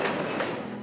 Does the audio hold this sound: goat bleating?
no